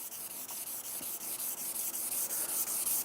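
Abrasive paper of 400 grit rubbed by hand across an epoxy serving platter, a steady close scratchy hiss in quick back-and-forth strokes with no voices.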